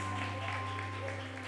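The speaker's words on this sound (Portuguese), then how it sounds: "dar uma baita salva de palmas para Ele" Worshippers clapping at a New Year's Eve church service, a dense, steady patter of applause over a sustained musical drone with held tones, continuous and fairly loud for the whole short stretch.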